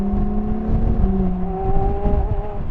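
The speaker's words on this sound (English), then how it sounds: "It's really like driving a motorcycle with 4 wheels that's powered by a V12 and a double clutch gearbox" A Ferrari Monza SP1's V12, paired with a double-clutch gearbox, drones steadily from the cockpit as it drives, its harmonic engine tone rising and holding with a loud, continuous hum and no talk.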